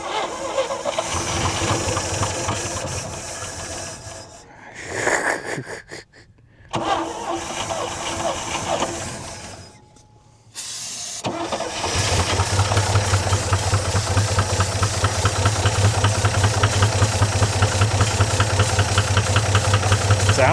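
A 1963 GMC V6 that has sat for over 30 years cranks and fires, sputtering through a few gaps before catching into a loud, steady, rough knocking idle close by.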